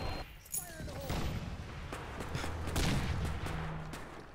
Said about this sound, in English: that's a friendly firing out that way